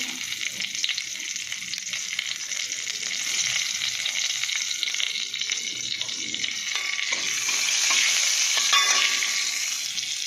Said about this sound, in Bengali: মাছের তেলে ওই কালো জিরেটা দিয়ে দেবো, একটু কাঁচা লঙ্কা দিয়ে দেবো